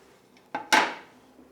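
Plums being stirred into dulce de leche, with two clinking scrapes of a utensil against a bowl or pan, the second louder and ringing out briefly before fading into quiet.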